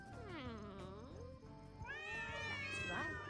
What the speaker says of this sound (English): All the nearby cats came running!